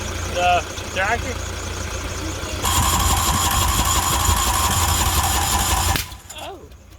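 A tractor engine cranks and catches after a few short starter attempts, then settles into a steady, loud mid-pitched idle that runs for several seconds before cutting off abruptly.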